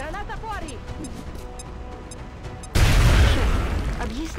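A grenade blast in XCOM: Enemy Within erupts as a single loud, sudden boom that rumbles and fades over a second or two, following a stretch of game sounds and voices.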